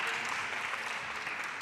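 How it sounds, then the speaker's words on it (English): An audience at a sustainability pledge event applauds as panelists come onto the stage, giving a dense, continuous round of clapping heard at a fairly low, distant level. "Here, thank you, with an applause, Rossella"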